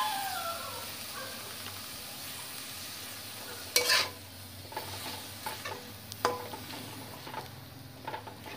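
Vegetables for egg chowmein sizzle and fry in a pan while being stirred, with a steady low sizzle broken by several sharper scraping stir strokes, close and fairly quiet.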